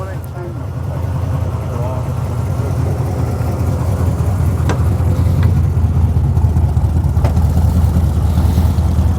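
Chevrolet Corvette with a 383 stroker V8 at a late-November car meet, running with a deep, steady, loud engine rumble throughout, close by, with crowd chatter faintly underneath.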